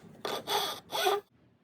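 Rasping strokes of a file or sandpaper across wooden serving-tray templates: three close, even scrapes in a row, each roughly a third of a second, then quiet.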